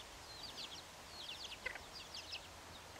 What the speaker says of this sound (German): Hier sehen wir eine gelbe Henne mit mehreren Küken.